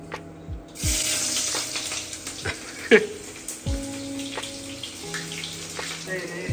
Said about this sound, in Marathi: तेल गरम झाल्यानंतर मी कांदा टाकणार आहे.